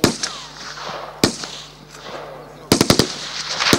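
Rapid bursts of gunshots ring out at a shooting range, a few sharp single cracks followed by a quick cluster of shots, loud and close with echoing decay between.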